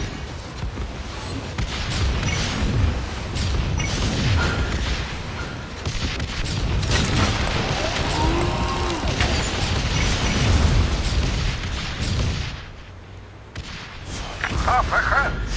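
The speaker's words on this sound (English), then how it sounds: "All guns, Fire on my mark." Battleship guns fire in a video game amid continuous booming and rumbling mechanical noise, dense and loud throughout, with a brief dip near the end.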